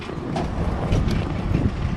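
Strong wind buffeting the microphone in a continuous low rumble with gusty surges, on a Vienna street before rain.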